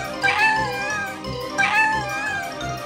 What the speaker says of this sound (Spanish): Oigo maullidos.